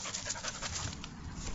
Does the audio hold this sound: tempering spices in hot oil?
no